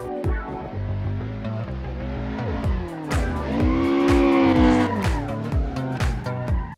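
Tires squeal in long sustained howls as a race car drifts in the Initial D arcade racing game, the engine revving and dropping with downshifts throughout, loud and close with no talking.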